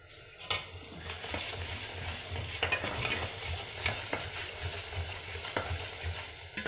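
A spoon stirring masala with turmeric, chili and salt in a frying pan, a soft steady sizzle under repeated scraping and light clinks of utensil against the pan, close and moderately quiet.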